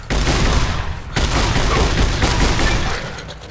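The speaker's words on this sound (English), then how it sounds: "I'm gonna run out of ammo for this riot shotgun" Riot shotgun blasts in Fallout New Vegas, heavy booming reports fired in quick succession with a brief gap near the start, loud and close with no talk over them.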